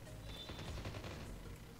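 Gunfire from the mobile shooter game Call of Duty Mobile, a quiet burst of rapid automatic shots with a few sharp cracks, faint and somewhat muffled under the game's background noise.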